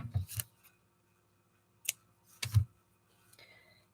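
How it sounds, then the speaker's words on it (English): Scissors cutting card into lengths: a few crisp, separate snips with quiet pauses between them, heard up close. "So I've got five bits of card to play with. I'm just going to cut this in lengths."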